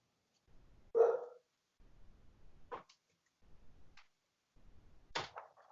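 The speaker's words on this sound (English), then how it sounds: "I'm just going to close my door because the dogs are barking." A few short, muffled dog barks, spaced apart and fairly faint, as if from another room, with quiet gaps between them.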